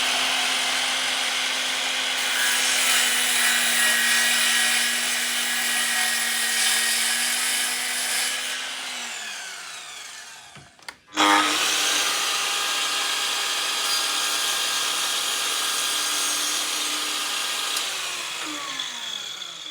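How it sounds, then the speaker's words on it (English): Rutlands cordless mitre saw cutting wood, alongside a Festool Kapex for comparison: a loud whirring blade spins up, drops and stops, then a second steady cutting run follows, with no talking. "I was pleasantly surprised how quiet this is for a mitre saw"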